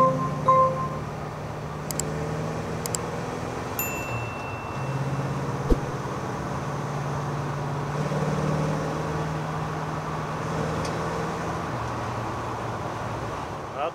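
A 1965 Malibu SS with a Muncie four-speed manual gearbox, running through the gears with a steady engine drone that shifts pitch at each change, heard from inside the car with no talk.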